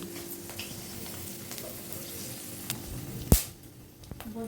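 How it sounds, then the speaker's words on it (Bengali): Dried red chillies hit hot mustard oil with a soft, steady sizzle, broken by one sharp clink partway through. "তেলটা গরম হয়ে গেছে, এবার শুকনো লঙ্কাটা তেলে দিয়ে দিচ্ছে।"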